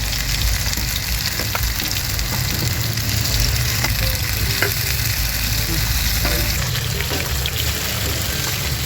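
Marinated chicken liver hitting a hot pan with onions, sizzling and frying steadily, with occasional stirring scrapes and clinks close by throughout.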